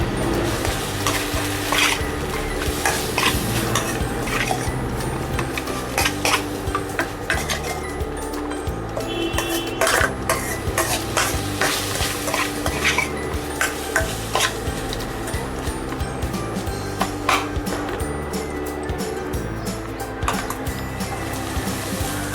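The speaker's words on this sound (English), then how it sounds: "ginger garlic paste, cook it nicely until raw smell gone." Ginger garlic paste fries in a pan, a steady close sizzle running throughout with frequent clinks and scrapes of a spoon stirring against the metal.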